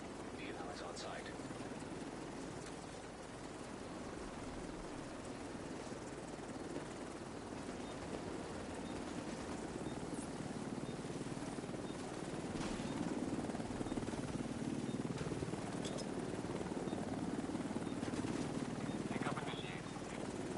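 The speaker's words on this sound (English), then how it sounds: "Helo is on site." A helicopter hovers for a pickup in Division 2, its rotor a steady, muffled drone that swells slightly louder partway through, with talking over it.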